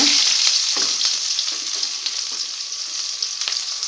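Onions frying in hot oil in a kadai with popped mustard seeds, a steady loud bright sizzle with occasional crackles and stirring clinks throughout, no voices.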